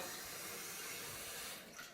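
Water rushing down a bathroom sink through a pop-up waste as the plug is pushed down, a steady close hiss and gurgle that tapers slightly at the end.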